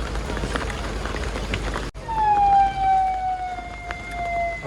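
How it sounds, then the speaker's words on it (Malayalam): An ambulance siren rises in, wailing with a slowly falling tone over road noise in heavy rain, fairly close and loud. "ആംബുലൻസ് ആണല്ലോ"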